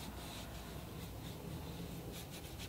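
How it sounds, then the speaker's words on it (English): A large watercolor brush loaded with clean water strokes over paper in a soft, continuous rubbing swish, faint and close, with repeated sweeps and no talking. "clean water and just dampening the whole paper"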